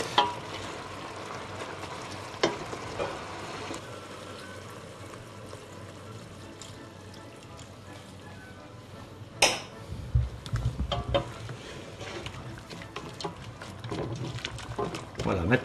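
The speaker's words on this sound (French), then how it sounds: "On va y mettre aussi un petit peu d'eau." Guinea fowl fricassee cooking in a pan as water is added, a low sizzle and bubbling with occasional utensil knocks, the frying surging louder after the pour, with someone talking at times.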